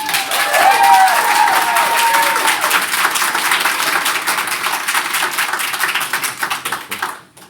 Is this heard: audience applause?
yes